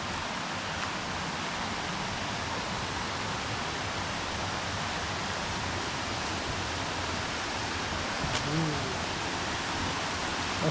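Ataba Ella waterfall in Sri Lanka, close to the road, gives a broad steady roar of falling water, continuous and fairly loud, with brief faint sounds over it near the end.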